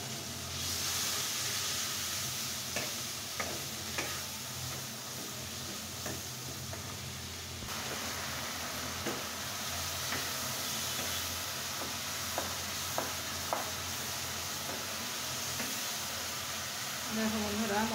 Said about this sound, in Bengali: যতক্ষণ না মশলাটা কষানো হয়, মশলা থেকে তেল ছেড়ে দেয়, ততক্ষণ আমি সুন্দর মতো মশলাটাকে কষিয়ে নেব